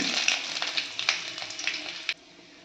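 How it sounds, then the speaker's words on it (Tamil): Hot oil crackles and sizzles with quick sharp pops of mustard seeds spluttering with urad dal, fairly close, then the sound drops abruptly near the end. "கடுகு நல்லா பொரிஞ்சிருச்சு"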